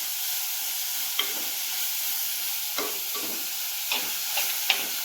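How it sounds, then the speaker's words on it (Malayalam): Egg curry masala is stirred in a pan over a steady hiss of sizzling oil, with a spoon scraping at irregular intervals, close and moderately loud, and no talking. "ഇതിനെ നന്നായിട്ട് ഇളക്കി കൊടുക്കാം"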